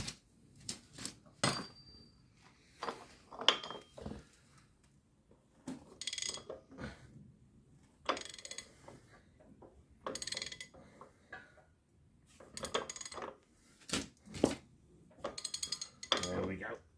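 A ratchet tightens bolts while a clutch is fitted, heard in short bursts of rapid clicking separated by quiet gaps, close but fairly faint, with occasional metallic clinks of tools and someone talking at times.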